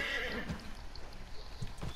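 A Morgan horse in a video game whinnies over steady background noise, with a few soft hoof clops near the end.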